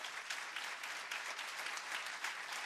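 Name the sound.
congregation applauding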